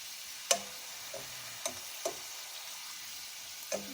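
Shrimp sizzling in a hot pan as pieces are turned over one by one, a steady frying hiss broken by a few sharp clicks and taps of the utensil against the pan.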